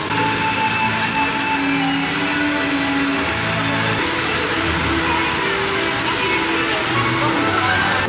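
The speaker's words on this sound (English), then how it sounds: "there's all this waterfalls, water features" Steady rushing water fills the scene at Tokyo DisneySea, a constant broadband roar like a waterfall, with faint crowd murmur in the background.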